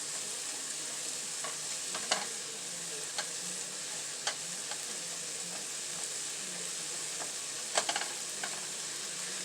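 Onions sautéing in a pan for rice pilaf, stirred now and then; a steady, moderately quiet sizzle with occasional sharp scrapes and taps of the utensil, close by and free of talk.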